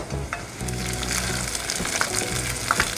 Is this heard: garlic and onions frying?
yes